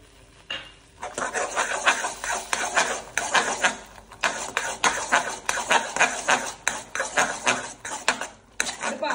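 A spoon scrapes and clatters rapidly in a pan while caramelized sugar is stirred with butter and broken cashews for butterscotch, a dense, continuous metallic scraping with a quiet voice underneath.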